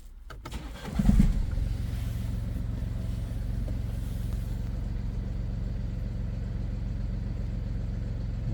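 A BMW with a manual gearbox cranks and fires up, a short starter whirr and catch, then settles into a steady, even idle hum that carries on alone at moderate volume.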